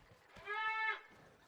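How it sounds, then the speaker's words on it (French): A goat in the video game Scrap Mechanic lets out a single short bleat, quiet and a little distant, with a faint background behind it. "C'est une chèvre, mais..."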